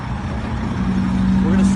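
A livestock truck loaded with about 300 animals approaches, a low engine rumble and drone that builds slightly louder as it draws near.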